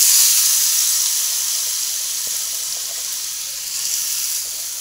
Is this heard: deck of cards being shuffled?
no